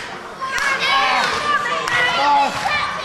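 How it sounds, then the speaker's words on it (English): A wrestling crowd at a London event cheers and shouts in a rising, sustained roar with excited higher voices, while a commentator speaks over it. "The crowd really starting to fire up."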